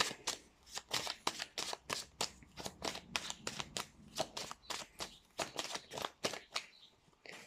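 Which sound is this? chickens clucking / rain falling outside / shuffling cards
shuffling cards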